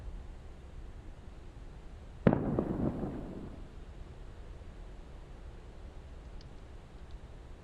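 One booming shot from a ship's cannons in a video game, a sudden close blast with a rumbling tail that fades over about a second, over steady wind-like background noise.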